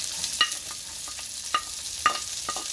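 Onions sautéing in a pan for a vegetable stir fry, a soft steady sizzle with a few sharp utensil taps and scrapes against the pan at irregular intervals; no voices.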